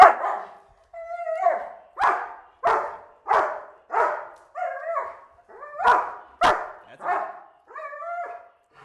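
A police K-9 unit dog barks about a dozen times in a steady, evenly spaced series of sharp, close barks, some with a whining, yelping edge, with short quiet gaps between them.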